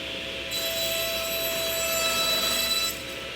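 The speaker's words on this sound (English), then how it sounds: "I'm going to start the blade, and I'm going to pull back against the miter gauge as I push forward." A table saw blade cuts through a board guided by a miter gauge, giving a steady, loud whining hum with a brief rise in high-pitched rasp as the blade bites the wood, no voices present.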